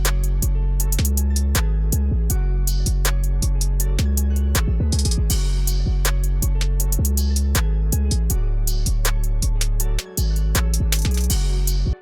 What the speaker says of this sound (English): Okay, so I've made my 808 pattern.